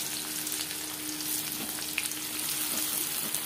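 Onions frying in hot oil: a quiet, steady sizzle with faint crackles and a few light stirring touches, no talking.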